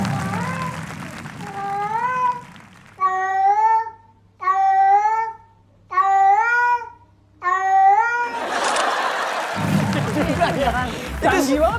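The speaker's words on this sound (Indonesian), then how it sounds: "Itu beneran kucing." A cat from a played clip about a cat and round fried tofu gives five clear, tuneful meows in a steady rhythm over a low hum, then noisy studio chatter and crowd sound take over.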